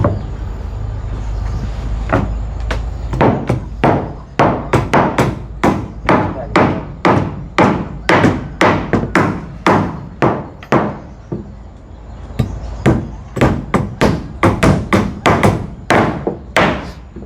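Heavy hammer blows land in a steady run of close, loud pounding thuds with a short pause partway through, repeated dozens of times.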